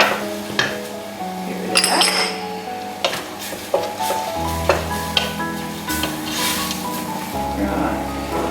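Chow mein vegetables with soy sauce sizzle in a pan as a utensil stirs them, producing scrapes and metallic clinks. A person talks over the cooking at intervals, and a low hum runs underneath.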